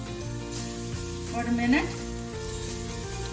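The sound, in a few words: chopped garlic sizzling in a pan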